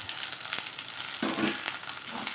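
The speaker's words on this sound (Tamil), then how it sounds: "இப்போ இதை நல்லா வதக்கிக்கலாம்." Cut okra sautéing in a pan for sambar gives a steady sizzle with soft stirring scrapes, fairly close and without talk.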